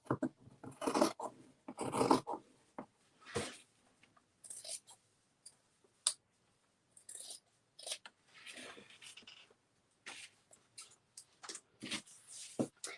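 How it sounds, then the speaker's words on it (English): Scissors snip along fabric edges to trim reused cloth for screen-printed gift bags, a series of close, crisp cutting strokes in short irregular bursts separated by silence. "And then I'm just going to trim the edges."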